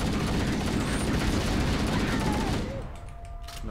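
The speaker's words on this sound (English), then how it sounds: "Stupid needle gun." A Needler fires in Halo: Combat Evolved as a dense, continuous barrage of gunfire. It runs loud for a few seconds, then thins out near the end.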